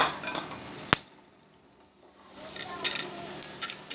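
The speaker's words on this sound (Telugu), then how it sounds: "ఇప్పుడు దీన్ని పోపు వేసుకుంటున్నాను" Tempering of chana dal, urad dal, mustard seeds and cumin hitting hot oil for a gourd and grated coconut curry: a sharp clack, a brief lull, then rising crackling sizzle.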